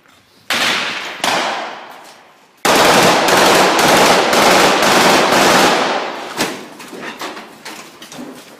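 Gunfire in combat between pro-Russian separatists and the Ukrainian army in Ukraine, with loud bursts and rapid volleys of shots close by, a pause, then denser sustained firing that thins into scattered shots.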